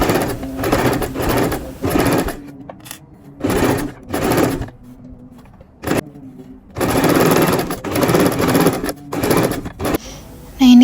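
A sewing machine stitches the lining of a men's trouser waistband, whirring loudly and close in several runs of a few seconds each, separated by short quiet pauses, with no speech over it.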